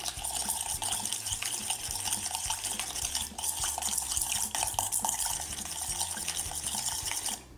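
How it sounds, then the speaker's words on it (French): Seitan dough being stirred with soy sauce and cider vinegar in a bowl: a steady, continuous scraping and clinking of a utensil against the bowl with soft wet squelches, close and moderately loud. "On mélange."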